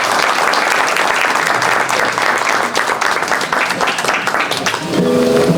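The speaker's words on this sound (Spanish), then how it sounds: "el señor Eduardo Duval, para quien pido un fuerte aplauso" Loud, sustained applause from a festival audience at a tango event in Valencia, a dense wash of clapping that holds steady throughout.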